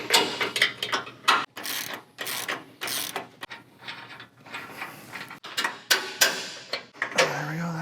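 Ratchet wrench clicks while alignment cam bolts (27 mm nut, 21 mm bolt head) are removed from a 2021+ Ford F-150 suspension, with bursts of rapid ratcheting and metallic clunks separated by short pauses.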